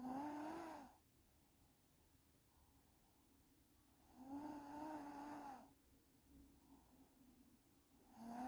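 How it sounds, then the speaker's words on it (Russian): A girl snores while asleep, slow and soft, with two long, droning snores several seconds apart and a fainter breath between them, and quiet room noise in the background. "ты храпишь"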